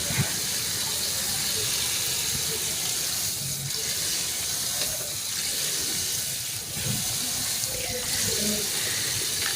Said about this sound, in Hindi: 3-4 पानियों में धो लें।